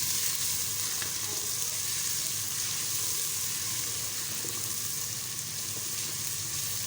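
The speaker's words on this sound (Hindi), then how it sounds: "और अच्छी तरह से फ्राई कर लेंगे।" Onions with ginger-garlic paste fry steadily in a pan for daal chawal, a continuous close sizzle with faint stirring and no talking.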